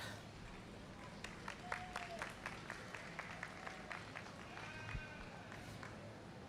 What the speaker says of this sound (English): Let's give these juniors a nice round of applause